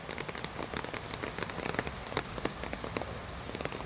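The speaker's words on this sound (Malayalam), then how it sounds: "ഇപ്പോൾ മഴ പെയ്തുകൊണ്ടിരിക്കുകയാണ്." Light drizzle patters down on a rainy day, a soft, even hiss with scattered sharper drop ticks close by, heard alone without talk.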